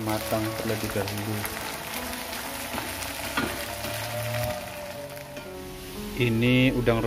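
Small dried shrimp fry in hot oil for sambal, giving a continuous close sizzle and crackle. A voice talks over it, and the frying swells louder near the end as the shrimp are stirred.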